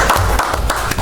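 Attendees at a town board meeting clap to welcome a new member, loud, close, rapid applause from a small group that continues without a break.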